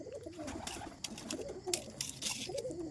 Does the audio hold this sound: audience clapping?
no